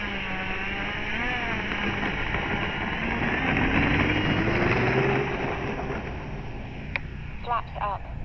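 FMS T28 1400mm RC warbird taking off with one notch of flaps: a steady electric motor whine with rising and shifting pitch, carried over wind noise on the microphone and heard from nearby on the field.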